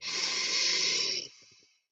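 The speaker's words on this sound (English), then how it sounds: "Breathing in through the nose, out through the mouth" A single long breath during a morning breathwork session, drawn in through the nose and let out through the mouth: a close, loud airy rush that fades and leaves a few soft puffs at the end.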